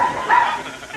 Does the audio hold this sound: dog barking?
yes